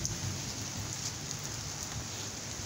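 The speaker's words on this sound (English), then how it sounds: "It's not a storm, it's rain." Steady rain falling on a porch and container vegetable garden, a soft continuous hiss with light patter of drops on surfaces, even and moderately quiet throughout with no voices.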